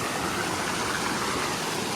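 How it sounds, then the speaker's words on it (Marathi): Water rushes down steadily into a swimming tank in a dense, even roar, like a strong flow falling from above, close by and constant with no pauses. "वरन येतं एकदम पाणी मस्त"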